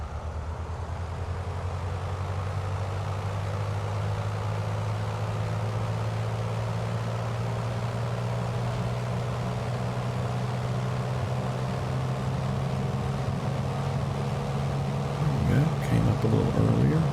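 Cessna 170B piston engine in Microsoft Flight Simulator 2024 on its takeoff roll, a steady, loud propeller drone holding throughout, with a brief rumble near the end; a voice talks over it.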